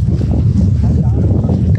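Wind gusts steadily over a misty hillside tea estate, a continuous low roar and buffeting rumble close against the microphone, with no clear break across the short stretch.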